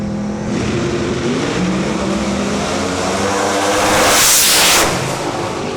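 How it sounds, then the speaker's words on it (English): Pro Mod drag racing car on a qualifying pass, a loud, sustained engine roar that swells as the car passes close by, with crowd and track noise underneath. "Kenny Lang out of my hometown, Manitoba, Canada, driving the Al Billis Hot Rod."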